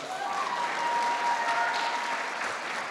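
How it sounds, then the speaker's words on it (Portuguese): Church audience claps for a pastor, an even, continuous round of applause from a sizable crowd, moderately distant and fairly soft throughout. "Palmas para o pastor Jairo, que é o guardião."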